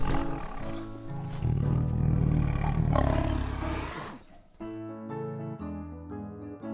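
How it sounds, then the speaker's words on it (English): Deep, powerful tiger roar rumbling for about four seconds, loud and close, swelling and fading, followed by a light musical jingle. "Now, a tiger. Tigers are big cats known for their striped fur."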